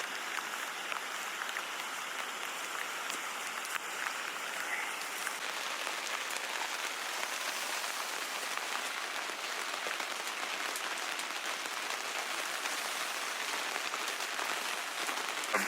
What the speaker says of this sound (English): Still raining, but cloudy.